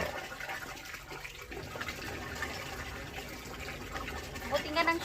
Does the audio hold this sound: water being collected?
yes